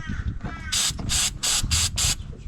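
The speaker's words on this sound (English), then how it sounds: "So I'm just going to spray a bit of that on that pulley." Five short bursts of brake cleaner spray hiss onto an engine pulley of a Cessna 182, each burst about a quarter second, loud and close, over a low engine-area rumble.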